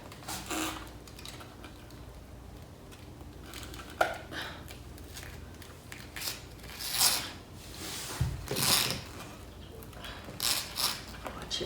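A utility knife slices excess 3D vinyl wallpaper off along a crease, giving soft scraping strokes and small clicks and rustles of the vinyl, close and intermittent, with no talk over it.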